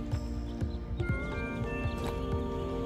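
A horse gallops in the Kingdom: Norse Lands video game, its rapid hoofbeats drumming steadily under a continuous tonal music bed, with a brief whinny mixed in.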